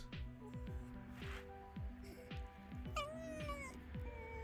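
A pet fox makes a string of soft, cute squeaky noises and chirps, close and fairly quiet, with faint rustling in between.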